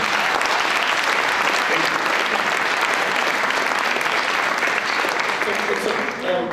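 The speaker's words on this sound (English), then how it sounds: "So I really would like to get, get an applause." Dense, steady audience applause fills a lecture hall at a documentary talk on American jails, a continuous wash of many clapping hands without a break.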